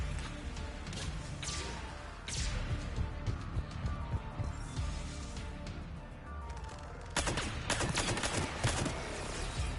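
Rapid pistol gunfire from Mass Effect Legendary Edition, with dense bursts of shots that swell loudly near the two- and eight-second marks over a constant din of combat sounds.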